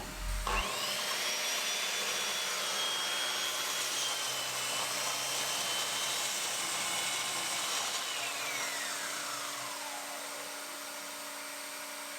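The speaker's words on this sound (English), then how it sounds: "I made the crosscut on my miter saw" A miter saw cuts a crosscut through wood: a loud motor whine starts abruptly, holds steady through the cut, then winds down with a falling pitch as the blade spins to a stop, with no talking.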